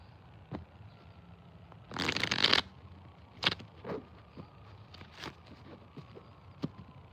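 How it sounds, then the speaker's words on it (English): A tarot card deck gets one quick shuffle, a short, close, crisp burst of riffling cards amid a quiet room with scattered light taps and handling sounds. "I already shuffled this deck earlier, but I'm gonna give it one more."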